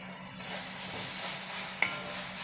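Chopped green chili and about half a teaspoon of chili powder fry in a pan with a steady, close sizzle, and a spoon stirs through it, with one brief scrape near the end.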